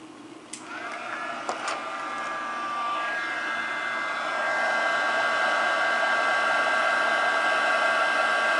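A heat tool blows hot air to heat-set muslin flowers, a steady whooshing blower that starts after a couple of faint clicks and grows slightly louder, continuing close and uninterrupted.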